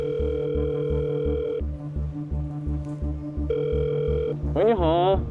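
A phone call rings out with a repeating electronic ringback tone in short regular bursts and pauses, then a voice answers at the end.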